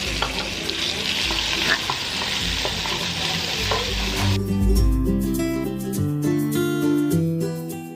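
Minced pork and shrimp head fat stir-frying with garlic, pepper and coriander root in a pan, a steady close sizzle with stirring scrapes throughout, growing fuller and louder partway through.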